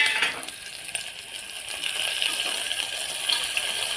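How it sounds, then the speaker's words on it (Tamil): Onion, chilli, curry leaves and garlic sizzle steadily in hot oil in a pan, a continuous hissing fry with faint stirring scrapes, close and unbroken. "வெங்காயம், மிளகாய், கருவேப்பிலை, பூண்டு இந்த 3ஐயும் போட்டு நல்லா வதக்கி எடுத்துக்கோங்க."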